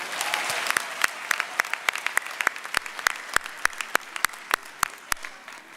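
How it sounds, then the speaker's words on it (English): A graduation ceremony audience gives a round of applause, steady crowd clapping with sharp individual claps standing out, moderately distant. "Please give her another round of applause."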